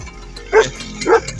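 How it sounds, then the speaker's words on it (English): Two short, sharp dog barks about half a second apart ring out close by outdoors, from a group of three dogs wandering around a coastal birding area at Ria de Alvor in Portugal. "So I brought my 3 dogs with me, and they're going to wander around while I'm doing this."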